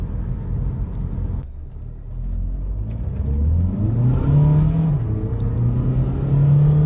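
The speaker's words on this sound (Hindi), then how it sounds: "फिर से गाड़ी ने व्हील स्पिन किया।" A Volkswagen Jetta 2.0 Highline automatic accelerates hard with wheel spin: a loud, near engine note that dips, then climbs steadily in pitch as it revs up through the gear, with no voices.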